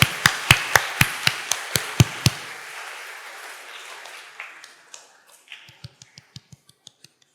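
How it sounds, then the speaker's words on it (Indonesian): Sharp, evenly spaced hand claps ring out about nine times in a church, then fainter, quicker claps follow after a short pause. "Kita beri tepuk tangan lagi"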